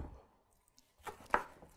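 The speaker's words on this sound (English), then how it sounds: "So we're just going to cut this up" A knife chops fruit on a board in a quiet kitchen, a few soft, sparse cuts with a sharper strike near the end.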